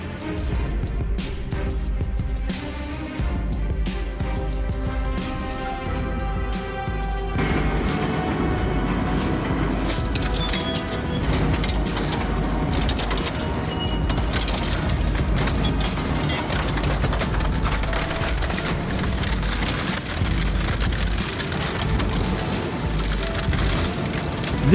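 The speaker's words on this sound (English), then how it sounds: "The machine doesn't pause. It feeds, cuts, splits, and sends the finished logs down the conveyor" A firewood processor runs without pause, feeding, cutting and splitting logs and sending them down a conveyor, a loud, dense mechanical roar with clattering wood and heavy thuds throughout.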